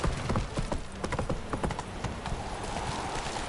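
Roach, a horse in the video game The Witcher 3, trotting with a steady run of close, crisp hoof clip-clops over a busy background of ambient game sound.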